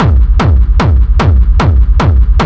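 Layered kick drums for industrial techno pound in a steady four-on-the-floor pulse, six loud punchy hits with bright clicky attacks and deep descending booms over a continuous low rumble.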